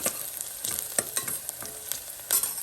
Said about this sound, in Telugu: ఆనియన్ని కొంచెం గోల్డ్ కలర్ వచ్చే వరకు ఫ్రై చేసుకుంటే